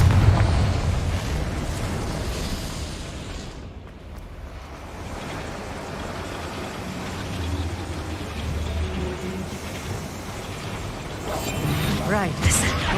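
A Confringo blasting spell in Hogwarts Legacy sets off a booming explosion with a broad rumbling roar that decays into a lingering low rumble, while a voice talks over it.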